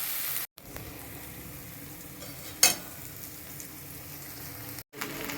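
Spices with jackfruit and potato are sautéed in a pan, giving a soft steady sizzle with a brief louder burst of stirring in the middle and two short gaps.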